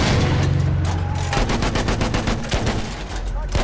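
Enemy machine gun fire in a Battlefield 1 Conquest Assault tank battle, rapid bursts rattling in a steady rhythm over loud battlefield din, close and harsh, with a shouted voice briefly heard.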